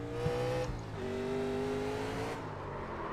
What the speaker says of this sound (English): I'm going to go turn the engine noise up a little bit.